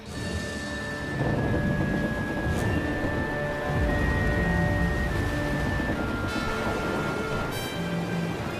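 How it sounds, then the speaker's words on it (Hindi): A film's storm at sea churns with a steady, heavy roar of rain and rumbling thunder, loud and unbroken, under a faint sustained tone. "तूफान है."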